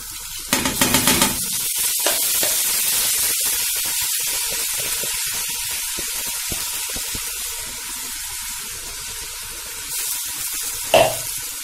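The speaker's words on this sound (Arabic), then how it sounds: "برضه هشوحه كده 5 دقايق." Rice sautés in a pot for koshari, sizzling and hissing steadily with occasional stirring scrapes and clinks, close and continuous.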